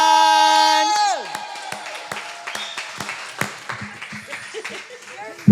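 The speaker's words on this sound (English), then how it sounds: "So can you please give a round of applause to Warm Leanne?" An open mic crowd at a coffeehouse claps and cheers as a singer is welcomed, a sustained musical tone cutting off at the start, then scattered applause and whoops with some chatter underneath.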